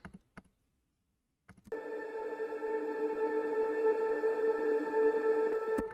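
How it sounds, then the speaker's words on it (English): A reversed ambience sample from a music track: a few faint clicks and short taps, a second of silence, then a sustained tonal swell that rises and holds steadily to the end. "you can reverse the audio so it sounds like this"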